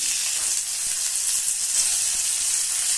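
Steady, bright sizzling of onions frying in hot oil, a constant close hiss with no pauses.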